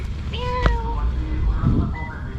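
A single short, rising-and-falling meow from a cat nearby, over low background rumble.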